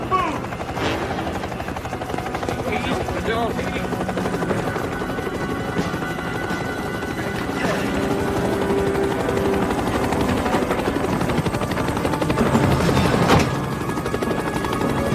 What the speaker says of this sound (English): Todd, Gary, what do you say we go for a chopper ride?